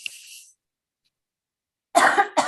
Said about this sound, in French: éclaircir ma voix